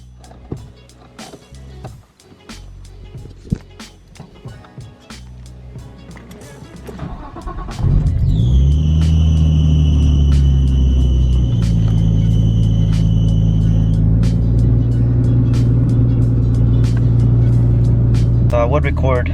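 A Nissan Skyline's engine starts quietly after some handling noises, then settles into a loud, steady, close-up rumble as the car pulls away and drives, with a high whine layered over the engine note.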